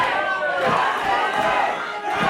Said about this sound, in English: This crowd once again getting behind Justin Sane.